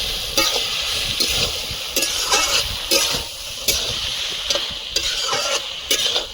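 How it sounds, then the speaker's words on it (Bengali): Ridge gourd, potato and shrimp fry in a pan under a continuous loud sizzle, with regular scraping strokes of a spatula stirring roughly every second, close up and without talk. "এবারে নেড়ে দেবো"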